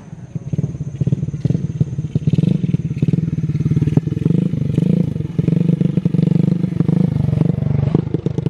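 A motorcycle engine runs steadily nearby with a rough, throbbing idle and slight revving, loud and continuous throughout.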